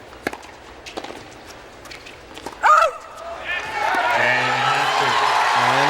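Boisterous tennis crowd at the US Open, starting with scattered claps and thuds, then a loud burst of sound before the crowd swells into sustained cheering and roaring over a commentator's voice.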